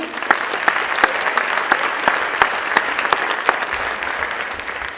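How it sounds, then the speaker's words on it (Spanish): An audience at an autism conference in Neuquén gives loud, steady applause that holds evenly for the whole stretch, with a few sharper individual claps standing out. "fuerte el aplauso nuevamente"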